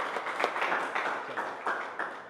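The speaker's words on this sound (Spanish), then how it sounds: "Fuerte el aplauso." A church congregation at a Mass claps after singing a birthday song, giving a brief, moderately loud spell of applause with overlapping claps and a soft crowd murmur.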